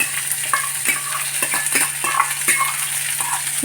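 Onions hit hot oil with mustard seeds and fry with a bright, continuous sizzle, punctuated by repeated sharp clinks and scrapes of a spoon stirring in the pan, close up.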